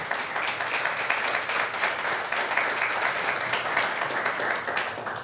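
A congregation at a church service applauds for the Lord, a dense, steady wash of many hands clapping together for several seconds with no talk over it.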